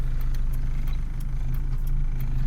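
A car creeps slowly during side parking, its engine a low steady hum close by with faint ticking clicks over it and no voices.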